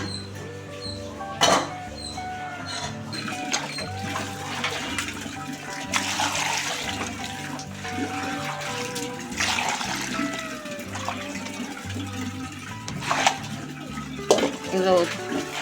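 Pieces of fish dropped into a boiling fish curry, with wet plops, utensil clinks against the pot and bubbling stir sounds at close range, a few sharp knocks standing out.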